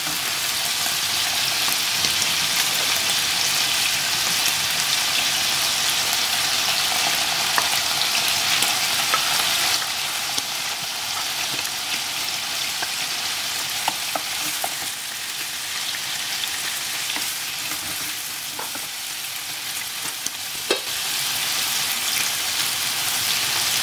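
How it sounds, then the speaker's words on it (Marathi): Onions and tomatoes sauté in a pan for a Goan jeerem meerem stingray fish curry, giving a steady, close, loud sizzle with occasional stirring scrapes and ticks throughout, and no talking. "आता टोमॅटोज परतून आमी सॉटे करूया"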